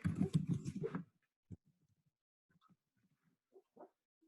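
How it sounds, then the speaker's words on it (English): A sleeping, dreaming dog gives faint, scattered snorts, whimpers and snuffling noises after a burst of nearby human talk, quiet and irregular against near silence. "My dog is dreaming. He's snoring and he's dreaming and he is making noises and it's kind of funny."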